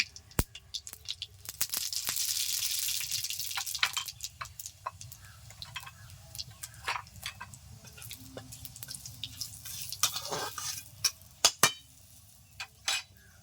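Radhuni seeds dropped into a pan while cooking Bengali village-style masoor dal give a short sizzling hiss, followed by scattered drips and light clinks of utensils close by.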